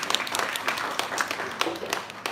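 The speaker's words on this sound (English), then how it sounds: "We can clap for her." Conference audience applauding, a short patch of scattered hand clapping from a modest crowd, with a voice speaking over it.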